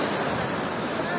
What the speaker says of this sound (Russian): Это обалдеть волна.